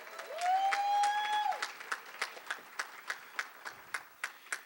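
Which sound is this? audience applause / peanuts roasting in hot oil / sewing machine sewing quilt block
audience applause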